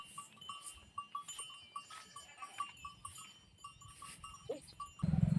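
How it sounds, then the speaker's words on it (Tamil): A goat with newborn kids on a small farm bleats in short repeated calls, with soft higher cries from the kids and faint clinking, near and fairly quiet, ending in a burst of rustling. "இன்னைக்கு ஆடு குட்டி போட்டிருக்கு"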